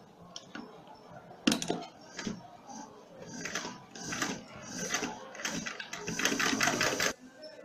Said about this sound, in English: we're going to put them all together and sew the side